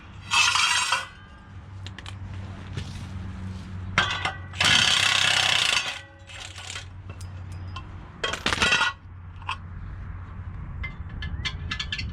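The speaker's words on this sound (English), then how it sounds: "I'm just putting the bolt back in" A bolt goes back into place on a 6180 machine: loud metallic clinks, scrapes and short ratcheting bursts from a wrench or tool close by, separated by quieter pauses with low background hum.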